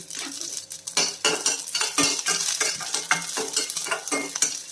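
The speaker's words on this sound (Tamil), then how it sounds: "எண்ணெய் வந்து சூடாகிடுச்சுங்க இதில் வந்து ஒரு அஞ்சு ஆறு பண் பூண்டு சேர்த்துடலாம்" Garlic cloves, dried chillies and tamarind fry in hot oil, under loud, close clinks and scrapes of a metal spoon against the pan in a quick, busy rhythm.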